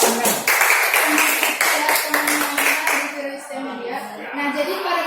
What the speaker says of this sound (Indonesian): coba tepuk tangan yang meriah